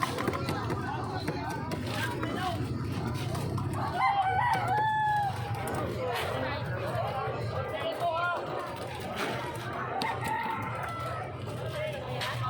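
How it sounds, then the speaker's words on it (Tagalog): A rooster crows amid a busy background of people chattering, with other clucking and noisy activity throughout. "Tumitilawak na yung manok."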